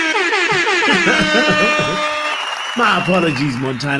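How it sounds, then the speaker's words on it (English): A blaring air horn sound effect fired off in loud, sustained blasts, its wavering pitch sweeping up and down, with a voice briefly speaking over it near the end. "let me make sure your air horn goes all the way."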